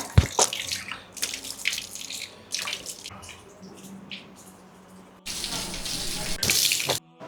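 Running tap water for ablution gushes close by in uneven bursts, easing to a softer trickle midway before a louder, fuller stream returns near the end.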